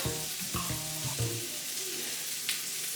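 Vegetables sizzle steadily in a pan, a close hiss broken by short clinks and scraping stirs near the start.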